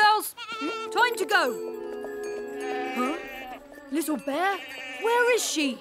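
Nasal, wavering animal bleats ring out close by, interrupted by people talking and exclaiming in between.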